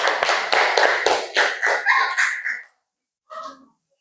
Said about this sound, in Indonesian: Jadi tepuk tangan dulu untuk kelompok 2.